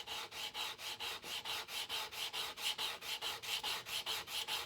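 A spokeshave iron is rubbed back and forth on a sharpening stone under firm pressure, making a steady rhythmic series of gritty scraping strokes, close and fairly quiet, with no talking.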